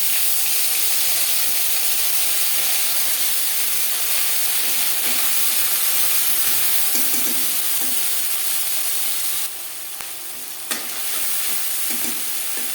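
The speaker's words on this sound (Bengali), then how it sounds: "পরের মাছ একইভাবে ভেজে নেব" Pieces of rohu fish fry in hot oil in a pan, giving a loud, steady hiss and sizzle that runs throughout with no talking, dipping briefly near the end before crackling on.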